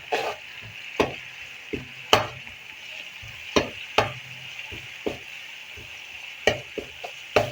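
Garlic-ginger paste fries with onions in a pan for a chicken bhuna masala, a steady close sizzle broken by about a dozen sharp spoon scrapes and clacks against the metal at uneven intervals, with no voices.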